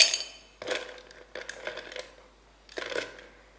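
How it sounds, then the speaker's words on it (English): Three to four ice cubes drop into a cocktail shaker in separate bursts, each a bright clatter of hard knocks that quickly dies away, with quiet gaps between them. "we need to fill the shaker up with ice cubes, round about 3 to 4"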